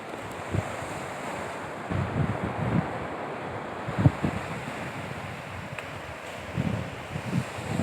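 Ocean waves wash onto Lingayen Beach in soft repeated surges, with steady wind buffeting the microphone throughout.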